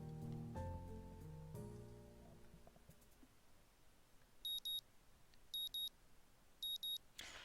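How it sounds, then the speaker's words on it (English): An alarm clock in the Katawa Shoujo video game gives three short bursts of rapid high beeps, evenly spaced, after soft background music fades into quiet ambience. "I don't know why I keep the early alarm on anymore, but it wakes me up the next morning just the same."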